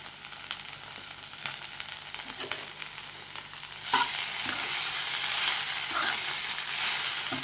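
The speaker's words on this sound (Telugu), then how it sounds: "బెండకాయ చూసారు చక్కగా ఏగిపోయాయి." Okra frying in oil with salt and a pinch of turmeric, stirred in the pan: a steady broadband sizzle with scattered clicks and scrapes of stirring, growing louder and denser about halfway through, with no voices.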